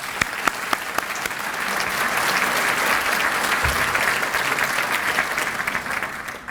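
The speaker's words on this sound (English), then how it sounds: "I'd ask you now to give a round of applause to my staff that worked so hard." A large audience at a city State of the City event applauds the staff, a dense, sustained wash of clapping that builds and holds steadily for several seconds with scattered louder claps near the start and end.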